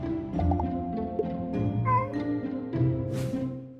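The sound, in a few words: cat meowing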